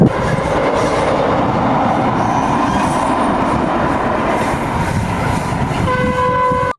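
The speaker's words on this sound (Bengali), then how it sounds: "খালের উপর দিয়ে একটি বগি ছাড়া ট্রেন গেল" A lone locomotive without coaches rolls over a canal bridge in rural Bangladesh, a loud steady rumble and rattle of wheels on rails, with a sustained horn blast sounding near the end.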